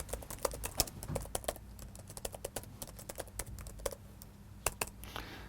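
Fingers type code on a computer keyboard, a quiet, close, uneven clatter of quick key taps in short bursts with brief pauses and no voices.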